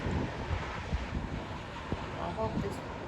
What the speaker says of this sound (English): Oh dang, look at the winds. Mom, look at those winds.